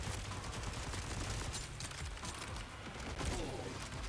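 Rapid automatic gunfire from the Borderlands video game rattles on continuously, a dense sustained burst of shots and mechanical clatter with no pauses, loud and close.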